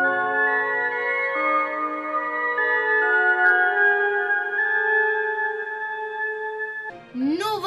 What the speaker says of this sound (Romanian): Notele pe care le-ați auzit au fost inițial vibrațiile unei plante.